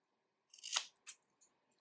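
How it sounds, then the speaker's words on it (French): Scissors snipping through yarn while making a crocheted braid keychain, one crisp close cut followed by two smaller snips, in a quiet room with no talk. "Je vais couper en bas aussi."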